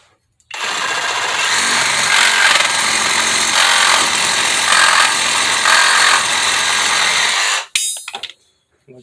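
A Bauer 20V brushless reciprocating saw cuts through wood in one loud, continuous run of rapid buzzing strokes, close by, starting abruptly and stopping after about seven seconds with a brief rattle.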